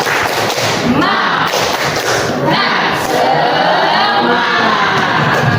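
Schoolchildren perform a tepuk semangat clapping chant, a loud, dense burst of group clapping mixed with shouted voices that runs continuously for several seconds.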